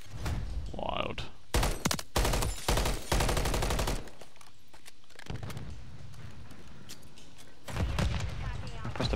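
Rapid bursts of gunfire from a multiplayer shooter game, loud volleys of shots separated by brief pauses, with players talking over and between the shooting.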